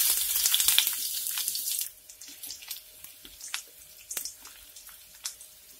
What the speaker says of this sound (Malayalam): സവാള നന്നായിട്ട് വഴന്നു വരുന്നുണ്ട്, നമുക്കത് കോരി എടുക്കണം